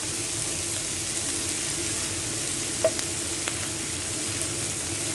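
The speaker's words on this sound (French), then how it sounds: "je vais laisser cuire tranquillement 1 minute à peu près en remuant bien" Spinach sautéing in a pan with salt as it is stirred, producing a constant close sizzle and crackle with a few soft clinks of the utensil, no talk.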